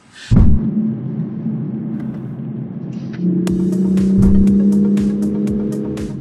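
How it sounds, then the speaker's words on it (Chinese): A Toyota GR Supra in sport mode holds high revs, its exhaust droning loudly and close after a sharp opening blip, with a steady low engine tone that rises slightly and rumbles on, broken by faint ticks. "它这个排气很明显，就狂躁了起来，它一直维持在一个高的转速。"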